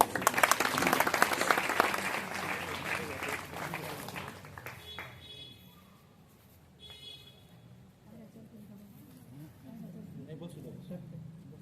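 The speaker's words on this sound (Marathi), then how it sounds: "टाळ्या वाजवत." An audience claps in a burst of loud, dense applause that fades after a few seconds, then a voice speaks over a quieter room with a few scattered claps afterward.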